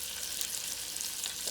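Flour-coated beef chuck chunks, about two inches across, sizzle steadily as they brown in a hot pan, a continuous close hiss with no voices.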